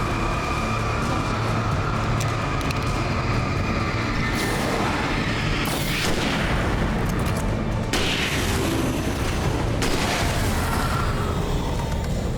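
Rifle shots ring out in the horror action game Alan Wake Remastered, with several booming reports at irregular intervals over a constant loud rumble of game ambience.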